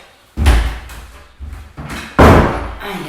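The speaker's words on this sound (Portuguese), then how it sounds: "Eu vou fechar a porta, peraí." A door is pushed shut indoors during a lesson, a close series of heavy thumps and knocks building to a final loud slam, with no talking.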